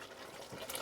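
Cornflour mix dribbled into a simmering sauce for bangers and mash, a soft, continuous watery trickle and bubbling that stays faint and close throughout.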